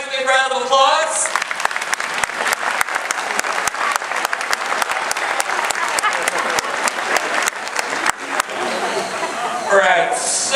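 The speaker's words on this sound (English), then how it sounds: "Give Bubba a nice big round of applause." Sustained applause from a crowd at a SeaWorld dolphin show, dense steady clapping with scattered voices and cheers mixed in, rising at the start and tapering near the end.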